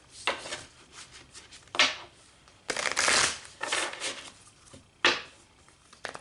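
Playing cards riffle-shuffled in several quick bursts, each a crisp rippling flutter, close and moderately loud, with short quiet gaps between them.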